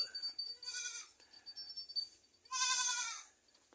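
Goats on a small farm bleat in short wavering cries, a few calls spaced apart and one longer loud bleat near the end, close by with little else around.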